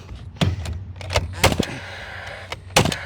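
A nail gun drives skew nails into timber framing for a tiny home, several sharp, punchy bangs spaced irregularly over a few seconds, close and loud against a low background hum.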